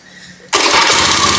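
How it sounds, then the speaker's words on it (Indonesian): Honda Vario 110 FI scooter engine starting: after a quiet moment a sudden loud catch, then a steady, close engine hum runs on without speech. "Kita tes hidupkan."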